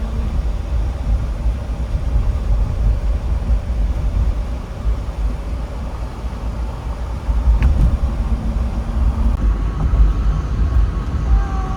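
2022 Jeep Wrangler 4xe driving on a bumpy road in Indiana, heard from inside as a steady low rumble of tires and road noise with occasional knocks and thumps over rough patches, and no talk.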